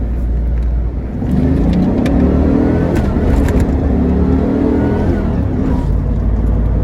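A Pontiac Trans Am's LT1 V8 revs up loudly and close, the pitch climbing through the gears of its T56 manual transmission in a sustained, throaty acceleration.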